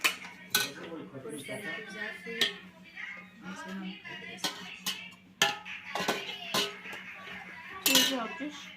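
Stew ladled into bowls in a home kitchen, with dishes and cutlery clinking and knocking in irregular bursts while people chat nearby.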